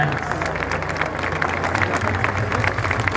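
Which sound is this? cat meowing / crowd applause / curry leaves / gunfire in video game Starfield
crowd applause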